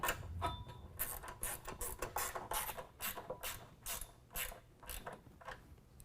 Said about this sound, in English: Next we can tighten down the two bolts at our fourth bracket.